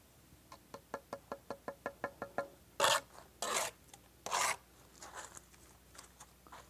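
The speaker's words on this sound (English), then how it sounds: "Again, tap it down, scrape the mortar off." A steel trowel taps and scrapes mortar off clinker brick, a dozen evenly spaced light taps followed by three longer rough scrapes and a few softer scuffs, close and alone.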